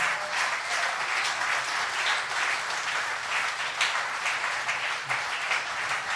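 A church congregation applauds steadily and continuously, a dense wash of many hands clapping that fills the room at even loudness throughout, with no voices standing out.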